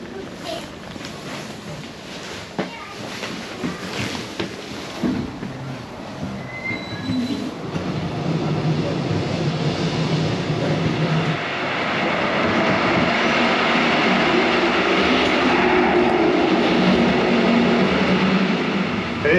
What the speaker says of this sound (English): It's a nice old train, isn't it?